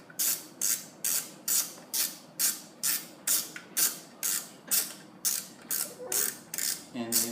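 A ratchet fitted with a 10 mm socket works on a Harley Sportster motorcycle during a battery job, giving about fifteen evenly spaced clicking strokes, close and clear with no talking.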